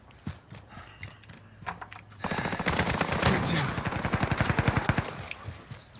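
Gunfire in a shooter video game: a few scattered shots, then a sustained rapid automatic burst rattling loudly for several seconds.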